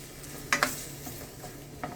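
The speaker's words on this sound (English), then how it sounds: "You just want to saute that for about 3 minutes" Herbs sautéing in a pan for a Jamaican ackee dish give a quiet low sizzle, with two sharp utensil clicks or stirs near the middle and another faint one at the end.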